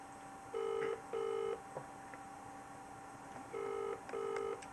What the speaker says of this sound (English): Pick up the fucking phone!